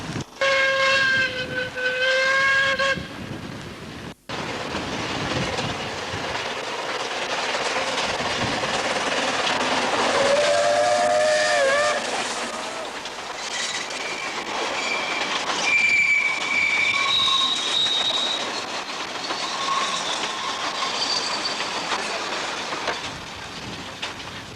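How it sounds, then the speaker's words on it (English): The steam locomotive Mountaineer, built by the American Locomotive Company in 1917, hauls a train around a curve at Boston Lodge Works on the Ffestiniog Railway. A whistle sounds early, then wheels squeal and rumble steadily along the rails. "We now see the engine Mountaineer, which was built by the American Locomotive Company in 1917, heading a train round the curve at Boston Lodge Works."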